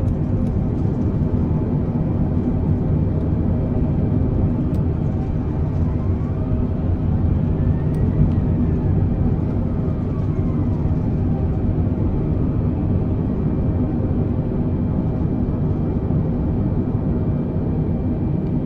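An Airbus A320 airliner lands and brakes at Liverpool airport, producing a loud, steady, continuous roar of engines and rumbling rollout with no breaks.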